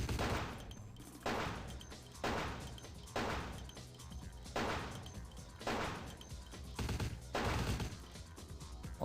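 Gunfire in Vampire: The Masquerade - Bloodlines, eight heavy, evenly spaced shots each ringing out briefly before the next, loud and close with no talking.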